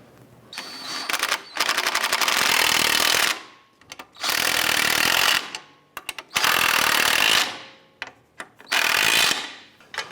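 Power tool snugging down the ball joint nuts on a 2010–2018 Volkswagen Jetta, heard as four loud, close bursts of rattling mechanical whirring, each lasting one to two seconds, separated by short pauses with no talk.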